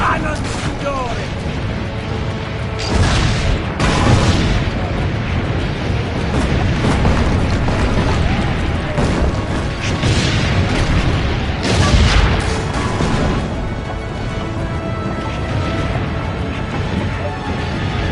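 Cannon fire booms through a battle in Assassin's Creed Brotherhood, with repeated heavy blasts and rumbling explosions amid chaotic clatter and shouting voices.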